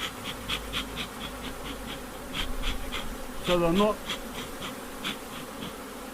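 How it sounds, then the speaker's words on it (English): Bees swarm around an open long hive, buzzing continuously and up close, with several louder passes near the microphone and a brief spoken phrase over the hum. "we need to clear the bees away from here"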